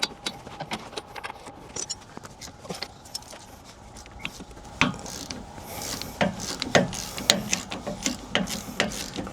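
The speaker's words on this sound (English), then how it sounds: "let's see if I can get some of the way off with a ratchet" A ratchet working loose lock nuts on a Prevost bus, giving quick rapid clicking bursts with scraping metal in between. It is fairly close, and the clicks grow louder and denser toward the end.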